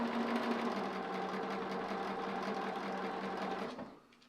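Sewing machine running a 1/4 inch seam while piecing quilt cubes into columns, a steady, close mechanical hum and rapid stitching chatter that carries on for several seconds, then slows and stops.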